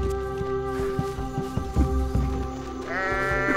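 In the video game Goat Simulator, a character gives a loud, wavering goat bleat that rises in pitch at the end, over game music and thumping in-game sounds.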